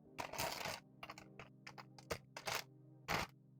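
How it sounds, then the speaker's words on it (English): Crinkly plastic bags holding Jurassic Park T-Rex model kit parts from X-Plus are handled and unwrapped, giving short, dry crackles and rustles in uneven bursts close up against a quiet background. "More unwrapping"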